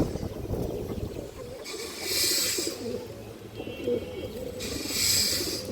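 Domestic pigeons of an old breed, including a large red-khaki hen, give low, repeated cooing at close range, with bursts of airy hiss rising and fading twice over the steady murmur.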